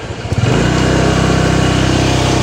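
Motorcycle engine climbing a steep hill, a loud close throbbing drone that swells in the first half-second and then holds a steady, pulsing labored rev with no talk over it.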